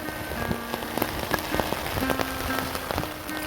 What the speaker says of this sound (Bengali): প্রচুর বৃষ্টি বাইরে, এই যে দেখেন বাইরে